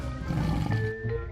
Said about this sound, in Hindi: उसने शेर खान के चीखने की आवाज सुनी।